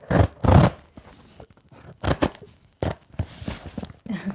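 Scissors snipping and scraping through a St Giles fragrance package, several sharp bursts of cutting and rustling packaging in short irregular clusters, close and fairly loud.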